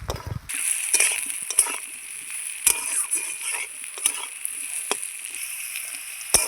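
Shola kachu (taro) pieces frying in hot oil, a steady bright sizzle with crackles and occasional soft spatula taps, fairly close and alone without speech.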